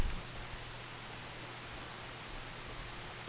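Steady rain from the video game Dies Irae, a soft, even hiss of falling water with no distinct drops or talk, continuous and fairly quiet throughout.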